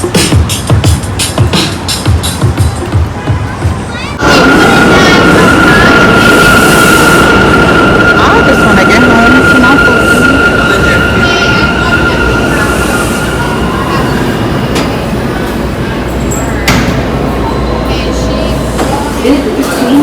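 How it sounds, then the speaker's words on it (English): Inside a New York City subway car on the Queens-bound A Express train, a loud roaring rumble of wheels on rails with a high squealing tone, after a person speaks briefly at the start. "This is the Queens-bound A Express train."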